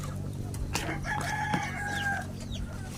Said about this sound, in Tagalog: lumalaban yung manok